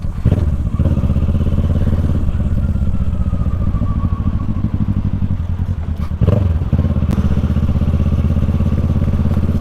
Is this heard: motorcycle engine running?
yes